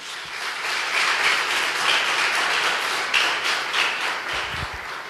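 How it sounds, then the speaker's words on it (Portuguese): Congregation applauding during a church service, a steady dense wash of many hands clapping that stays loud and even throughout. "Dê um aplauso a Jesus."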